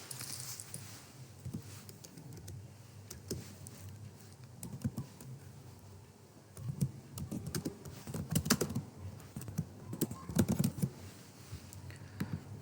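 An address is being typed on a computer keyboard: steady close-up key clatter with irregular bursts that grow denser and louder toward the end, and no talking over it.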